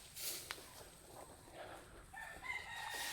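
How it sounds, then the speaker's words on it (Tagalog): Chickens and a rooster in a lush rural countryside spot, with one crow rising clearly above a steady outdoor background of clucking and ambient noise, no talking. "Tapos kung gusto nyong nitig ng mga manok."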